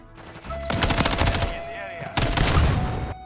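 Rapid automatic gunfire from the video game Modern Warfare III, two loud sustained bursts of dense shots separated by a brief pause.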